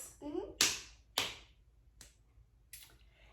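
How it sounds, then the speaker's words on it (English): A toddler claps hands twice, two sharp, close slaps about half a second apart in a quiet room, followed by a few fainter taps; a brief voice comes just before the claps. "So can you clap 2 times?"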